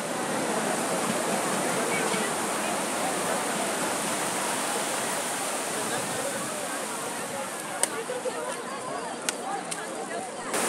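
Sea waves washing onto the shore at Ganga Sagar, a steady, loud rush of surf and foaming water that fills the whole stretch, with a few faint clicks near the end.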